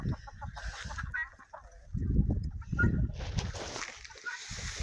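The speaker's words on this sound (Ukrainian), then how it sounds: "Розігнав трошки курей" Chickens cluck and chatter close by in short bursts, with some rustling and faint background noise.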